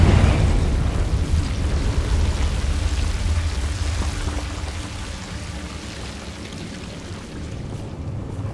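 A Confringo spell from Hogwarts Legacy blasts as a loud, rumbling explosion whose roar and crackling debris decay slowly over several seconds, with no voices over it.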